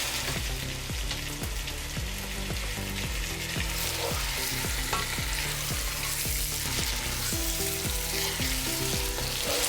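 Masala for chicken biryani fries steadily in a pan, a constant loud sizzle with rhythmic scraping strokes of a spoon stirring throughout, no voices.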